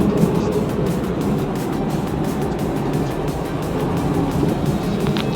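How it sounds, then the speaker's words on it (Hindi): A Maruti Alto car cruises at 70 km/h after its first service, giving a steady, unbroken drone of engine and road roar inside the cabin. "70 के स्पीड पर हम क्रूज कर रहे हैं।"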